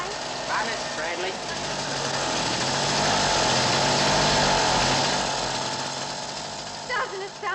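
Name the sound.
motorbike engine idling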